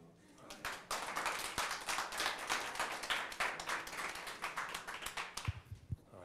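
Small audience clapping for innovation students at a school presentation, a quiet, brisk burst of applause that fades out near the end.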